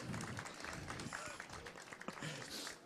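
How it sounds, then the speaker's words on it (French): Light, distant applause from a modest audience at a business event honouring small companies in Calais, a thin patter of clapping with murmuring voices underneath. "on peut applaudir aussi Émilie"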